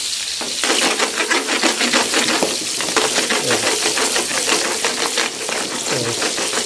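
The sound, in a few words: milkfish fillet frying in oil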